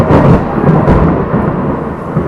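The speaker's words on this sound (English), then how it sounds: "it is thundering and lightning so loudly" Loud, deep rolling rumble of thunder during a thunderstorm, swelling at the start and slowly fading over a couple of seconds with no voices.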